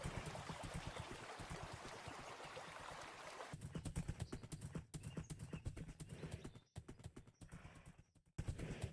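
Video game horse hooves clip-clop at a steady trotting pace, shifting as the ground changes, with a brief neigh and some flowing water in the background.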